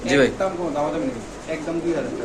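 A Lahori pigeon coos in low, throaty phrases close by, mixed with someone talking over it for the whole short stretch.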